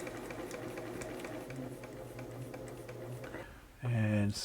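A Bernina 930 Record electronic sewing machine runs with a rapid, steady mechanical ticking and rattle while its drive latch is held up by hand, close and continuous. A voice cuts in loudly near the end.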